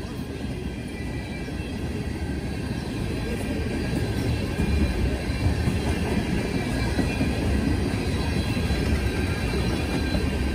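A coal train passing close by, a steady loud rumble of railcars with clattering wheels throughout, no voices.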